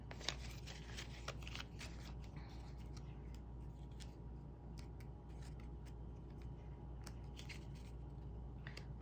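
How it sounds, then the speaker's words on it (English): A paper cash envelope being handled and opened up close, with crisp crinkling and rustling bursts scattered throughout over a low steady background hum. "I can get my little envelope open"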